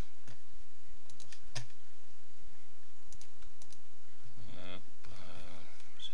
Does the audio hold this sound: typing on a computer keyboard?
yes